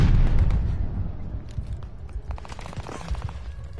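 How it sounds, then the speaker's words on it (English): In the video game Vanguard, a stun grenade detonates with a heavy boom that rolls off into rumbling echo, followed by scattered crackling pops from the surrounding battle. "Tossing stun grenade."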